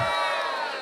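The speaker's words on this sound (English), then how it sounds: "Cheer." A live audience at a podcast show cheers loudly together, a dense burst of shouts and whoops close to the microphone that holds for under a second and then fades.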